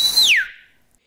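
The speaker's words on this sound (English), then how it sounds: "So I whistle." A woman whistles one short, clear note that bends downward and fades out within about half a second, close and alone.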